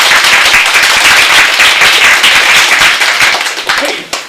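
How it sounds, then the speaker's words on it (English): Students in an English classroom clap for themselves after a group activity, a loud, close burst of quick mixed hand claps with voices underneath, thinning out and fading at the end. "Let's clap for ourselves."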